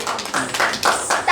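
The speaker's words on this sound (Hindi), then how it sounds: "तालियां बजती रहनी चाहिए।" Audience clapping at a dance competition finale comes in short, uneven bursts of claps, fairly close, with voices murmuring in between.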